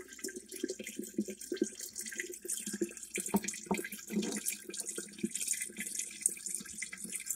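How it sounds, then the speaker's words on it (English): A dishwasher draining after a repair, water flowing out steadily into a sink or drain: a continuous, fairly quiet splashing rush with irregular gurgles and drips, close by and without talk. "Crystal clear water coming out now."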